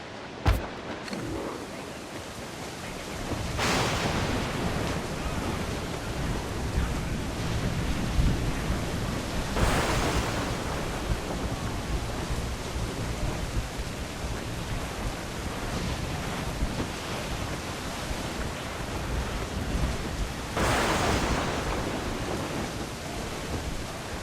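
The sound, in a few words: rough seas and waves, from video game Assassin's Creed IV Black Flag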